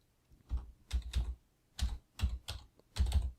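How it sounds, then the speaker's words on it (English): Keys clack on a computer keyboard in several short close bursts of quick taps separated by brief pauses, crisp and clear with no talk. "here type the word that you are looking for"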